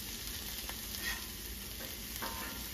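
Northern pike fillets seasoned with paprika sizzle in a frying pan, a steady close hiss with faint crackles and no voices, holding even and fairly quiet throughout.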